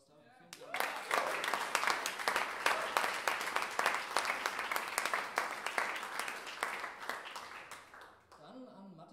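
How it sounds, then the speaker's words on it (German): A concert audience at a music-school bachelor's graduation concert breaks into applause that swells quickly, stays loud and dense with individual claps standing out, then fades away near the end. "Einmal einen Applaus da."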